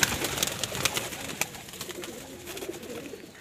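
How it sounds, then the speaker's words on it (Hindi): Pigeons coo softly nearby, a low murmuring burble repeating over a background of faint rustling and light clatter, with no talk. "माशाल्लाह काफ़ी प्यारे कबूतर हैं ये भी देखे"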